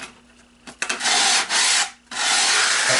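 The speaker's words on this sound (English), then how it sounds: "you can sand the edges that were exposed a little bit, just to get rid of any glue that might be there." Sandpaper rubs against the wooden edges of a model aircraft fuselage, two long close abrasive strokes after a few light scrapes, loud and dry with no talking.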